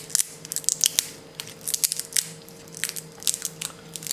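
Warm roasted chestnuts peeled by hand make irregular crisp cracks and crunchy snaps of shell, close up and fairly quiet, in quick uneven bursts.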